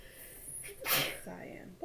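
A single short sneeze bursts out close by, a sharp breathy blast in a quiet room, followed by faint breathing.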